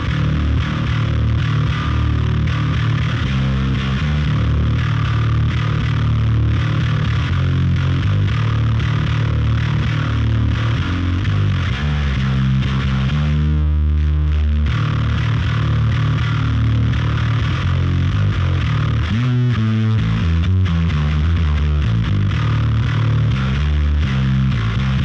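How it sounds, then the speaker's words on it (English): A bass guitar runs through a Cosmic Trigger into a Blue Colander Black Emperor fuzz pedal, giving a loud, continuous, heavily distorted tone with sustained notes and a few shifting passages and no talking. "we get to hear the Cosmic Trigger going into the Black Emperor."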